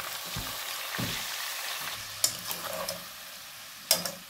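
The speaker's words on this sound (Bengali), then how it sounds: "এদিকে অল্প কিছু ফ্রাই করে নিচ্ছি" Food frying lightly in a little oil, with a low, steady sizzle broken by a few stirring scrapes and sharp clicks of a utensil against the pan, heard close up with no talking.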